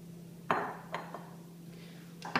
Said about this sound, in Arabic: وراح أضيف البصل المقطع ناعم، وراح أضيف البندورة أيضا مقطعتها ناعم